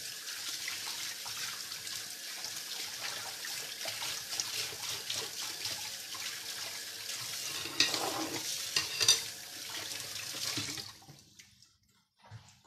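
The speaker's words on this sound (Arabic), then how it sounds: "جست نغسل يدي هاني معاكم." Hands rinsed under a running kitchen tap, a steady hiss of flowing water for about ten seconds with a few splashy bursts near the end before the water cuts off into quiet.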